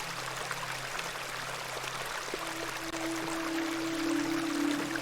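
Steady flowing water, like a cold stream, runs throughout the Hob's Barrow adventure game, with a faint tonal hum rising in the second half.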